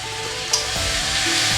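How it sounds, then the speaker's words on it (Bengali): A little water hits a pan of mutton and spices frying in oil, bringing a brief splash and then a steady hiss and sizzle close by, with no voice. "এবারে আমি অল্প একটু জল দিচ্ছি"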